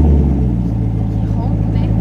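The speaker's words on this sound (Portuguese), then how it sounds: "vou ligar o carro pra você ouvir o barulho dele" A Corvette's engine running and revving, heard as a loud, close, low, throaty rumble that holds steady through the short stretch.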